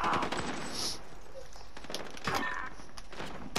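Rapid video-game gunfire crackles in short bursts against quieter stretches, moderately loud and somewhat distant.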